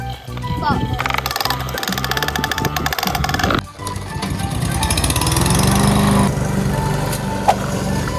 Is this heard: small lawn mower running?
yes